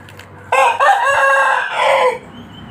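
A single loud rooster crow, close and clear, a drawn-out strained call lasting over a second before cutting off.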